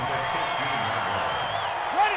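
Steady roar of a stadium crowd at an NFL football game between Washington and Minnesota, a dense continuous wash of noise with a brief swell near the end, heard under broadcast commentary.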